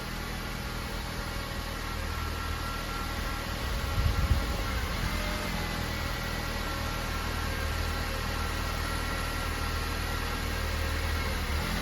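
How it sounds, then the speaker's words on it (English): A Honda Civic sedan idles steadily with a low, even engine hum while the steering wheel is turned, and a brief deeper groan rises partway through, likely from the power steering under load. "now we got the car started, so we're just gonna start turning the wheel"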